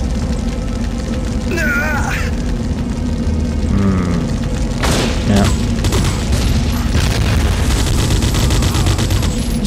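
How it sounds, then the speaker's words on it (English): Grenade launcher blasts in the Dredd vs Death video game, heavy booms and gunfire layered over a dense, constant wash of loud combat noise, with a few sharper bursts standing out. "This guy's got frickin' grenade launchers."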